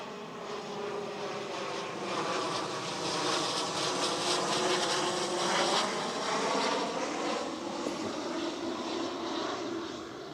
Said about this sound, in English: we are right by the airport here, and so jets flying right over us.